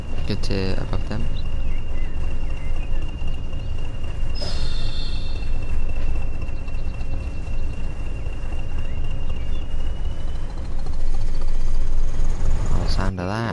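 A train rolling steadily along the track in the rail simulator Train Sim World 2, a continuous rumbling drone with a faint whine, while someone talks over it.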